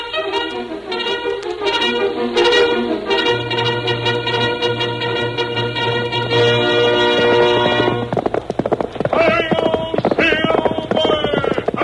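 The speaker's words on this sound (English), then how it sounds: "Fiery horse with the speed of light, a cloud of dust, and a hearty hi-yo Silver" A horse gallops and neighs in the Lone Ranger radio drama, loud hoofbeats over orchestral music, ending with a sharp, bright whinny near the close.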